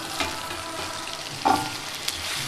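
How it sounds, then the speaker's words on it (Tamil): Chopped tomatoes frying with ginger garlic paste in a pan, a soft steady sizzle with a few brief stirring scrapes and clinks, no talking. "இதில் கட் பண்ணி வச்சுருக்க தக்காளியை வந்து ஆட் பண்ணிக்க வேண்டியது"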